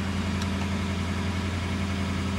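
Lexus IS500 F-Sport V8 idling in Sport Plus mode, a steady, subdued low rumble with an even hum and no revving, heard from inside the car.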